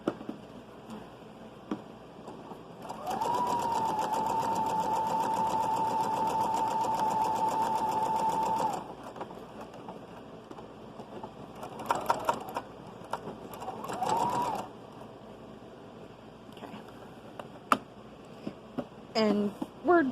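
A domestic sewing machine runs steadily for several seconds, stitching the fabric of a child's shrug, then gives a few shorter bursts. It sounds fairly close, with quiet pauses between runs.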